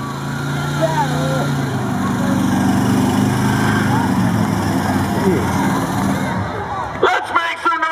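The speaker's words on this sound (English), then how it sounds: "First place this evening in the burnout competition." Vehicle revving hard in a burnout competition at a county fair, a sustained loud engine roar with a crowd cheering around it, fading toward the end as the crowd and an announcer take over.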